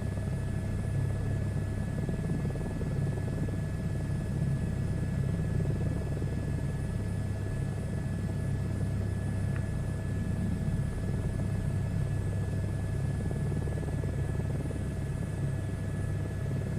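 A helicopter in a VR flight game produces a steady, even rotor and engine drone that holds without change, with no talking over it.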